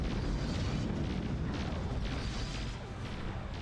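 A broad, rumbling explosion in the space combat game Nexus: The Jupiter Incident, one sustained roar of wideband noise that holds steady for a few seconds before easing slightly near the end.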